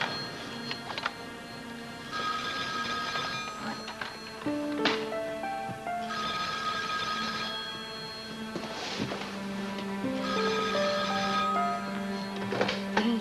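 A telephone rings in repeated bursts, fairly faint, with a quiet tonal ringing pattern recurring about every four seconds.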